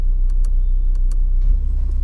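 Audi RS3 Sedan idling with a steady low exhaust rumble, which thickens and grows louder near the end as the valves open in dynamic mode, heard close and without talk.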